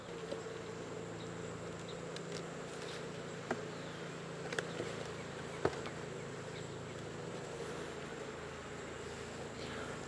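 A steady, dense buzz of many honeybees at a hive during honey collection fills the clip, with a few faint taps and clicks scattered through it.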